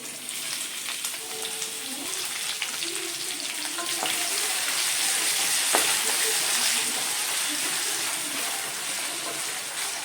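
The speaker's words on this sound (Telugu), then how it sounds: "ఆనియన్స్ ఫ్రై అయినా ఇప్పుడు ఇందులో క్యారెట్, బీనీస్, టొమాటో, పచ్చిమిర్చి, క్యాప్సికమ్ ఇంకా బఠానీ వేసుకోవాలి." Carrot, beans, tomato, green chilli, capsicum and peas fry with onions in a pan for karabath, giving a steady close sizzle that swells slightly midway, with faint stirring and no talk.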